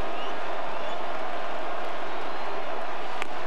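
A dense, steady crowd murmur fills a baseball stadium during a 2008 Twins game after a disputed call by the third base umpire, a broad unbroken wash of distant voices and rustle with no single clear speaker.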